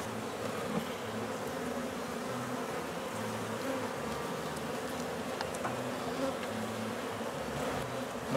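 Continuous low buzzing of many honey bees close by at an open hive during inspection, a dense steady drone with occasional brief clicks and knocks.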